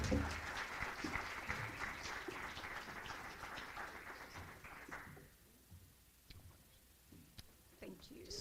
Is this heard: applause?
yes